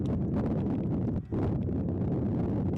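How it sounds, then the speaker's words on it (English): Wind gusting across a college baseball field during a game: a steady, loud broadband rush that fills the whole clip, dipping only for a brief moment midway, with no voices. "Wind continues to gust into left field."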